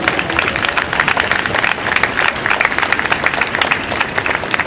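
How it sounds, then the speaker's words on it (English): A crowd applauds the tribal youth at a Wampanoag storytelling ceremony at Boston Greenfest, steady outdoor clapping that stays even throughout. "How about a round of applause for our tribal youth?"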